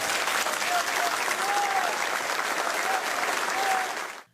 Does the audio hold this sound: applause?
yes